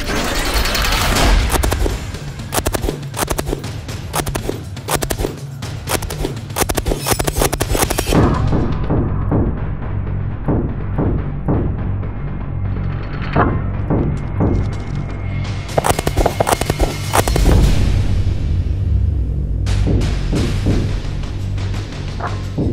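H&K MG4 machine gun firing outdoors in repeated loud bursts, rapid automatic reports separated by short pauses, with echoes trailing off downrange.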